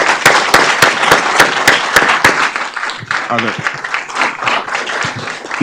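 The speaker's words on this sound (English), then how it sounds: "Let's give them another round of applause." Applause at a city council committee meeting, sharp separate claps standing out at first, then fading into murmuring voices and chatter as the clapping dies down.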